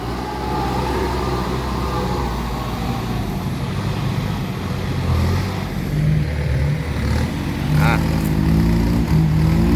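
A heavy farm tractor engine chugs steadily and loudly throughout, with rumbling low drone and occasional revving, close up, arriving to help a six-wheel dump truck on a rough, rutted track.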